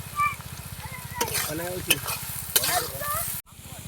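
Steady sizzle of onions frying in hot oil at an outdoor picnic, with a low rhythmic hum beneath, plus occasional stirring clinks and a voice talking over it.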